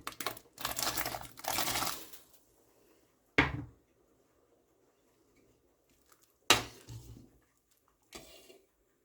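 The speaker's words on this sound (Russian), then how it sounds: "Картофель опускаю." Large whole potatoes are dropped into a pot of cooking rice, giving a few separate close splashy knocks with quiet gaps between them, after some rustling at the start.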